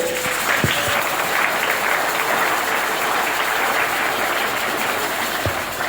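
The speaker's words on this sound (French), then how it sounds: "Acceptez que je puisse les féliciter en les acclamant très fort." A crowd at a public event in Muanda applauds steadily, sustained dense clapping filling the space, with faint cheering mixed in throughout.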